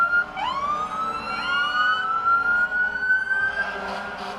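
Emergency vehicle sirens wail in a St. Patrick's Day parade, rising and falling tones sweeping up and holding steady, fairly close and loud, drowning out other street sound.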